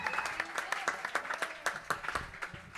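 A church congregation at a Sunday healing service applauds, with rhythmic, fairly faint clapping in a steady beat under a murmur of voices.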